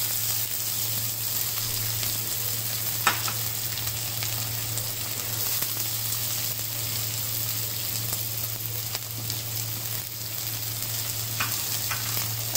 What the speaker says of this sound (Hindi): तेल गरम हो चुका है, अब हम इसमें प्याज डालेंगे।